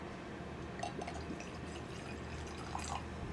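Fever-Tree tonic water is poured into a glass of rum, giving a soft, steady fizzing trickle with faint drips, quiet and close against a low background rumble.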